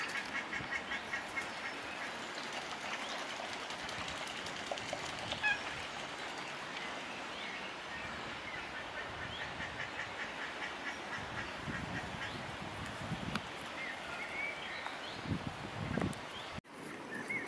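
Canada geese with young on a park lake give soft scattered calls amid a busy outdoor wash of ambient noise.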